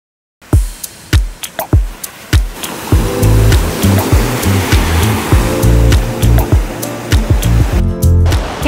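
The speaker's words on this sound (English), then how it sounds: "this beautiful bay that has the perfect waves for the surfers" Ocean waves breaking in Hiriketiya bay, Sri Lanka, a surfing beach: a run of separate crashing breakers gives way to a steady, loud roar of surf with no voices.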